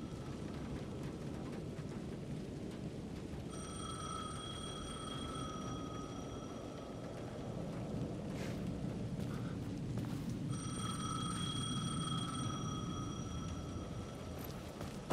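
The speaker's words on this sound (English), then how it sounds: "The payphone was ringing again." A payphone in the Alan Wake 2 video game rings in two long, steady electronic bursts separated by a pause, over a constant low ambient rumble.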